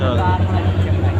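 A large Dhaka-to-Barishal passenger launch passing at night gives a steady low engine drone with a rhythmic throb, close and loud, while a person talks over it.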